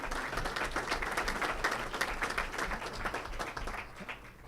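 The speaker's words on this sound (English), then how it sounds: "Give that a round of applause." Applause from a crowd at a city's state-of-the-city address, a dense, continuous patter of clapping with a low room hum underneath, moderately distant and tapering slightly at the end.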